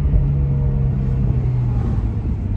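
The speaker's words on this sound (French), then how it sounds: "Elle fait un bruit qui est sympathique, hein, c'est un bruit de flat 6 qui est super agréable." Porsche 992 Carrera S flat-six engine in sport mode with the exhaust open, a steady, loud low rumble holding a constant drone throughout without revving, heard alone.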